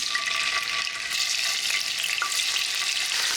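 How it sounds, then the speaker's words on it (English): Tofu fries in about 10 tablespoons of sesame oil heated to smoking point, giving a steady, loud, close sizzle with crackling spatters throughout. "So pour a little bit more oil because I got to fry the tofu first."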